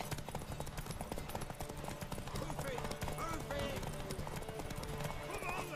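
Horse hooves pound in rapid clip-clop rhythm during a horse race in The Witcher 3, close and continuous, with occasional neighs, background music and a voice talking over it.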